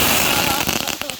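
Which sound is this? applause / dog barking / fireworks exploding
fireworks exploding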